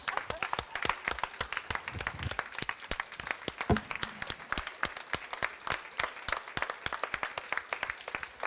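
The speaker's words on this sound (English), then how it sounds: "All right, we give you a round of applause." A room full of people applauding, rapid overlapping claps forming a lively, fairly quiet burst that carries on steadily for several seconds.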